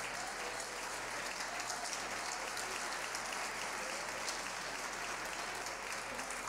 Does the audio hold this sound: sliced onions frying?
no